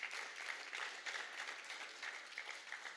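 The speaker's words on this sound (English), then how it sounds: "You can give that a round of applause." Audience applause at a CXC 2021 regional top awards ceremony, a steady wash of many hands clapping at moderate level for three seconds, with no voices standing out.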